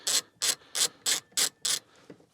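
Six quick, evenly spaced ratcheting bursts from a ratchet wrench loosening a bolt on the rear bench seat of a Nissan Micra K11, close and crisp, then a faint clink as the tool stops.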